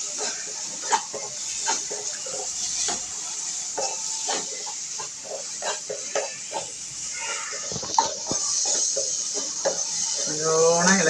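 Green chilies frying in a pan for okra thoran while being stirred: scattered scrapes and clinks of a spoon against the pan over a steady low sizzle.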